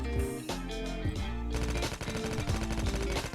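Sustained full-auto spray from an AK117 rifle in Call of Duty Mobile, a rapid, loud stream of shots emptying the magazine over game music, with no talk.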